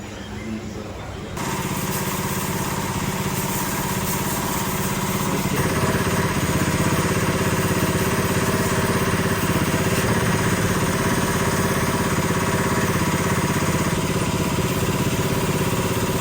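A motorcycle engine idles steadily and loudly after a brief quieter start, with a constant mechanical drone and faint clatter throughout, at a tire repair shop.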